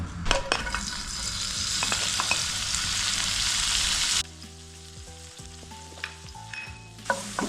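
Vegetables frying in oil give a steady close sizzle for about four seconds, with sharp clicks of a utensil, then the hiss cuts away to quieter clinks and a low hum.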